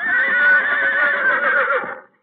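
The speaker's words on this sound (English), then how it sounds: "They were just dozing off again when the horses showed signs of restlessness." Horses whinny restlessly at night in a stable, one long, loud, wavering neigh lasting about two seconds and close by, then abruptly cut off.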